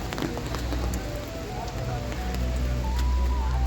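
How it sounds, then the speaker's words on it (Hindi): Heavy rain pattering steadily outdoors at the Dharamshala War Memorial, a dense hiss of drops on surfaces that swells slightly toward the end, with faint tonal sounds mixed in. "बारिश काफ़ी तेज़ हो गई थी"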